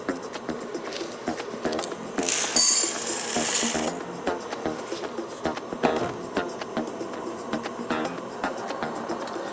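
Coffee beans tumble and rattle inside a rotating roaster drum during a medium roast, a steady close pattering with scattered clicks and a brief louder rush of air partway through.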